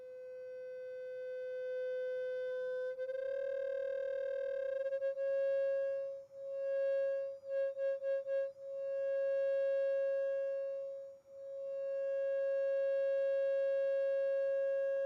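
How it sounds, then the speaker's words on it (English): A steady, pure synthesized sine wave tone hums for about fifteen seconds, with a brief brighter shift partway through and a few quick pulsing dips in volume. "Sine wave is quiet too because it doesn't have the benefit of harmonics"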